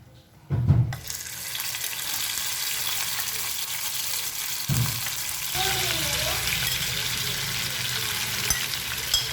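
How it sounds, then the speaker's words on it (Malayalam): Chicken pieces dropping one by one into hot oil burst into a loud, steady sizzle and crackle that carries on throughout, with a brief lower splash near the start and a few clinks of a utensil. "ഇപ്പം നമ്മുടെ എണ്ണ നന്നായിട്ട് ചൂടായിട്ടുണ്ട്. ഇതിലേക്ക് നമ്മുടെ ചിക്കൻ പീസസ് ഓരോന്നായിട്ട് ഇട്ട് കൊടുക്കാം."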